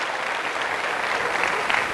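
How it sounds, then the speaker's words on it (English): An audience at a high school hypnosis show breaks into dense, loud applause, a steady wash of clapping with no voices standing out. "Give them a round of applause."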